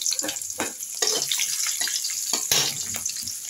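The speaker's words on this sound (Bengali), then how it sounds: "তেলের মধ্যে আমি এখন এই তেজপাতা, কাঁচা লঙ্কাটা আর জিরেটা ফোড়ন দিয়ে দিলাম।" Bay leaf, green chili and cumin seeds tempering in hot oil give a steady, close crackling sizzle with a few sharper spitting bursts, heard alone without talk.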